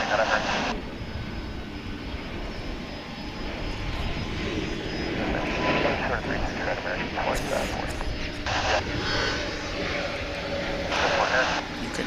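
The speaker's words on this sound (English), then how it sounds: "You can hear the whine of those 3 engines." A three-engine jet airliner idles at DFW International Airport, a steady high engine whine with a broad roar underneath, continuous and fairly loud with radio chatter and talk over it.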